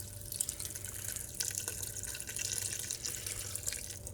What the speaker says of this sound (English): You can see the buckets filling up.